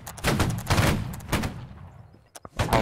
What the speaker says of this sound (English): That was pretty good ripple fire